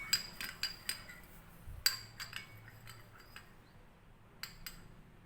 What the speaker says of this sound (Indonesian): Di-stir agar tercampur rata ya guys.